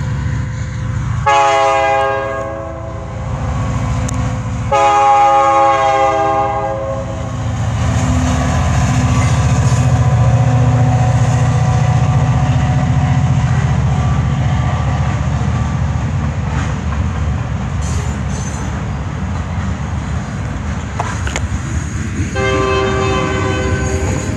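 A passing train sounds several long, loud horn blasts while its wagons rumble steadily underneath, with a final horn call as it moves along.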